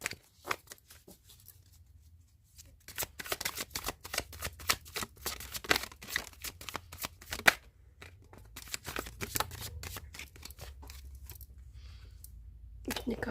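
Tarot cards being shuffled close up, a steady run of quick riffling and flicking sounds that continues throughout, faint and papery, with a voice speaking softly at times.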